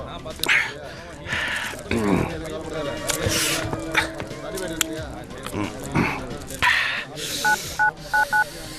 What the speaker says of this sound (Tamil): என்ன ஹரி, இந்த நேரத்துல எதுக்குடா போன் பண்ற?